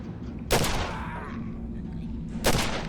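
Two loud, close pistol shots from the horror video game Condemned 2: Bloodshot, about two seconds apart, each with a sharp crack and a short ringing tail over a low game-ambience rumble.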